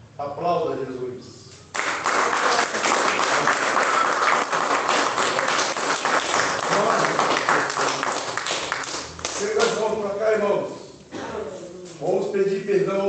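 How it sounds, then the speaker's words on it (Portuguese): A church congregation applauds Jesus during a Portuguese-language service, with sustained dense clapping lasting several seconds between stretches of a preacher's amplified speech at the start and end. "Aplauda Jesus."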